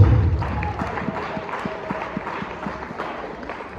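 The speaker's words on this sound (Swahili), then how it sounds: "Tumpigie Bwana makofi" A church congregation claps together during a morning service, a broad wash of applause with some rhythmic clapping that fades out over a few seconds.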